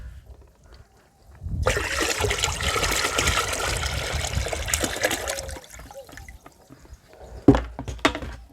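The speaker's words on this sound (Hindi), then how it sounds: "अभी इसको हम डालेंगे इस पानी में।" A buttermilk and jaggery mixture is poured into 10 litres of water, a sustained gushing splash of about five seconds after a quiet start, then a few sharp drips and splashes at the end.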